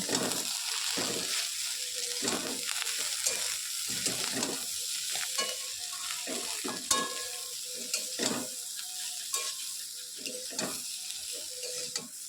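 Ivy gourd leaves and stems fry in a pan with salt and turmeric under a soft sizzle, broken by frequent scraping and clattering stirs. The sound is close and fairly quiet, with no voices.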